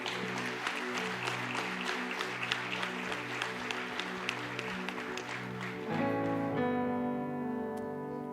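Church congregation applauds over a sustained keyboard chord during a worship service, the clapping spread and moderate, then fading as the music swells and holds alone near the end.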